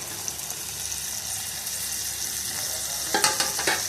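Chopped tomatoes sauté in a hot pan with a steady sizzle while a spoon stirs them, and a few sharper scraping clatters come near the end.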